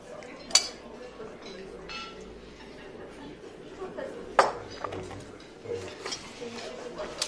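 Dishes are gathered up at a table, producing a few sharp ceramic and cutlery clinks and clatters spread across several seconds, with people talking quietly in the room.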